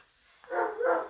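A dog gives two quick barks in succession, fairly close and moderately loud, after a brief quiet moment.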